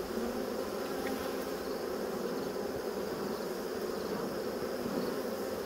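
Dense, continuous buzzing of many bees around a hive, loud and close, holding an even level throughout with no speech over it.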